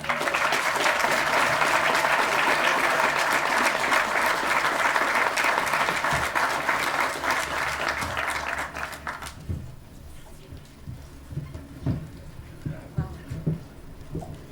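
Applause rises from an audience at an outdoor July 4 commemorative ceremony for the anniversary of the Battle and Massacre of Wyoming, loud dense clapping for about nine seconds, then fading to scattered claps and quieter crowd sounds with a brief spoken word.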